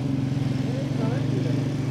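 A motorcycle rides through the narrow streets of a village at Kaloke Virkan, Sheikhupura, Pakistan, its engine a steady, close, low droning hum, with people talking over it throughout.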